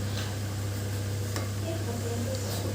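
Andhra-style fish curry simmering in a pan, a steady close bubbling and sizzling with a low constant hum underneath, and a faint clink or two of a utensil.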